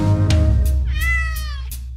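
A cat gives a drawn-out, wavering meow that rises and falls, loud and close, over a low musical bed in a French nursery rhyme.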